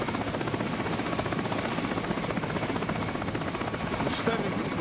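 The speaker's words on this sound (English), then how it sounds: "Tony looks back at the blades in shock before getting into the helicopter" Helicopter rotor blades turning close by in a scene from The Sopranos, a steady loud chopping whir that fills the whole stretch without a break.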